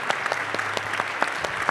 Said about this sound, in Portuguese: Eu gostaria de uma salva de palmas aos palestrantes.